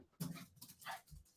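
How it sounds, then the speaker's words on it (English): An excited dog pants and whimpers in short, faint bursts, reacting to another dog heard upstairs. "my dog is going crazy because she hears a dog upstairs"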